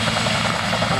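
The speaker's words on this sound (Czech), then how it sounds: "vrtulník AH1 Kobra" Bell AH-1S Cobra attack helicopter heard close and loud, a dense steady rotor and engine roar filling a brief moment without letup.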